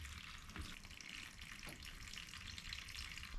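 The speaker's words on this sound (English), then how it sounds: "I am going to put water in them." Water splashing and trickling steadily into garden plant pots during transplanting, a continuous close wash of pouring with no talk.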